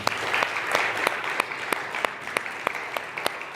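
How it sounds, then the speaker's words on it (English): A church congregation at a Sunday morning service applauds a volunteer: a dense bed of clapping with several sharp, close individual claps popping out at a roughly regular beat. "So clap your hands together for Steve."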